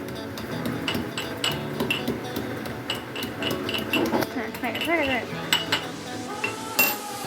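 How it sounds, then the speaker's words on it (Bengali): Garlic is crushed in a kitchen while cooking, making a run of sharp scraping knocks and metallic clinks, with faint bird chirps in the background. "আমি ততক্ষণ রসুনটা একটু থিতো করে নিচ্ছি"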